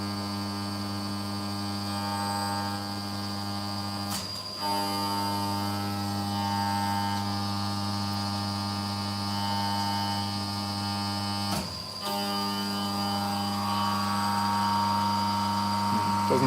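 A small CNC mill cuts small drone parts with a steady, loud, tonal machine hum and whine. Two sharp knocks break through at about four and twelve seconds, and no one talks.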